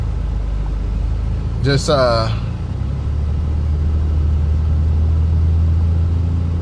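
A Nissan Stagea 260RS rolls along with a steady low engine drone and road rumble throughout, while someone speaks briefly near the start.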